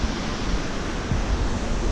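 A huge waterfall in a valley, heard as a loud, steady broadband roar that fills the whole stretch with no pauses or voices.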